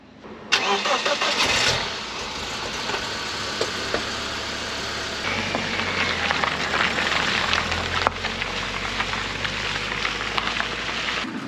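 A BMW E46 engine cranks and catches near the start, then settles into a steady running idle close by, with no talk over it.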